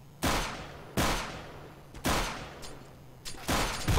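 Rapid gunfire from the video game Counter-Strike on the de_dust2 map during a competitive match, with five sharp, loud shots spaced irregularly across the moment, each followed by a brief decaying tail.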